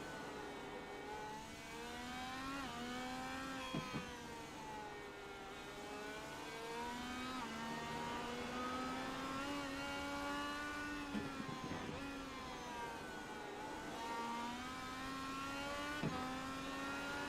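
Onboard an Indy race car lapping Mid-Ohio, a steady loud engine whine whose pitch climbs and dips, with brief drops as the driver lifts off the throttle and coasts before powering back on.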